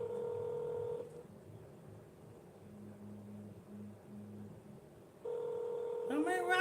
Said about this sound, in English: nobody picking up the phone over there.